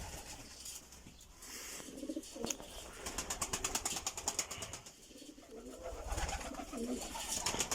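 Pigeons coo repeatedly in a breeding loft, layered low throaty calls close by with rustling and occasional wing flaps, a busy, continuous murmur of birds.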